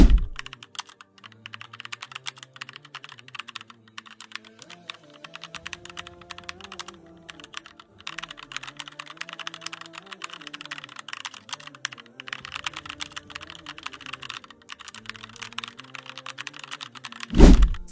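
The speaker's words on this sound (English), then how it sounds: "then you just click Shift and P on your keyboard" Computer keyboard keys pressed in rapid irregular bursts of close, crisp clicks, with a low musical tone running underneath and brief pauses between flurries of typing.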